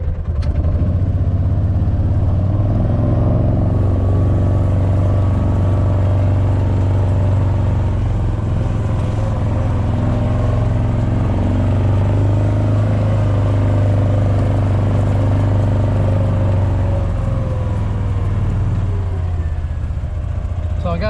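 Kawasaki Mule utility vehicle driving across a farm, its mid-pitched engine droning loud and steady at close range, rising and falling slightly with speed over a constant low rumble.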